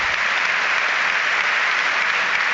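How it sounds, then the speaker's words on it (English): Crowd at a football stadium during a Liverpool v Chelsea Premier League match applauds steadily, a dense, even wash of clapping with no break. "Applause for McAllister, who's coming back onto the pitch."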